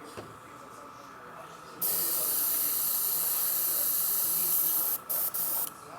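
A loud, steady airbrush hiss starts after a quiet moment and holds for several seconds, then breaks into two short bursts.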